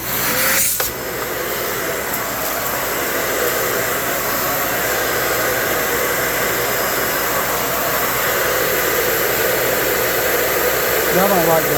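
A Shark vacuum cleaner runs on carpet with a loud, steady whining hiss, sustained unbroken for the whole stretch after a brief sharp click near the start, with a faint change in pitch toward the end.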